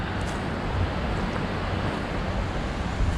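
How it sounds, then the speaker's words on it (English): A river rushes steadily beside a wooded lakeside campground in the Adirondacks, its broadband wash constant and moderately loud, with no voices heard. "With the beautiful sounds of the river in the background."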